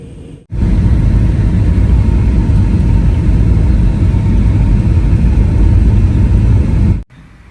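Steady, loud low-frequency roar of an airplane cabin during descent toward Ho Chi Minh City, a constant engine and airflow drone that fills the clip without talk, cutting in sharply at the start and dropping away near the end.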